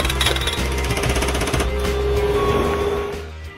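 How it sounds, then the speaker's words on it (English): A Rammer hydraulic breaker hammer from Allied Construction Products pounds in rapid, steady blows for several seconds, loud and close, with no talk; the hammering eases slightly near the end. "Rammer hammers are hydraulically operated breakers."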